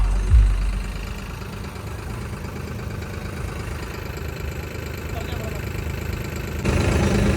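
Tractor engines run at a flood embankment in Punjab, a steady low idling rumble throughout at moderate distance, with faint voices in the background.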